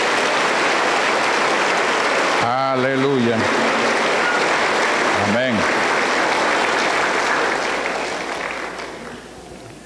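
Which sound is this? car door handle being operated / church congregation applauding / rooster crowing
church congregation applauding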